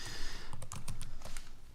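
Quick, irregular keystrokes on a computer keyboard while entering an audiobook credit into a text field, close and clear with no talking.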